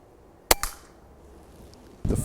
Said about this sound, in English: I could shoot tins all day